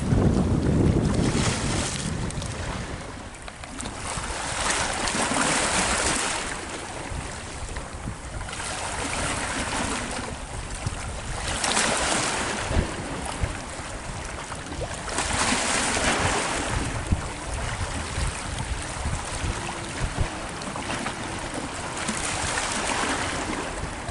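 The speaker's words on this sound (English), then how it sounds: "a super freighter coming in underneath the Golden Gate" Wind rushes and waves wash at the San Francisco Bay shore, with a broad steady roar and heavy mic buffeting as a large freighter passes under the Golden Gate, the engine rumble buried in the wind noise.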